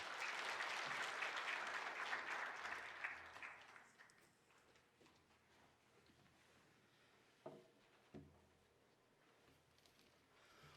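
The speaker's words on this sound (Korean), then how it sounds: "박수로 우리 격려하도록 하겠습니다" Church congregation at a Sunday service in Chuncheon applauding to bless a family's new baby daughter, a dense burst of clapping for about four seconds that fades into a quiet room with a few faint knocks.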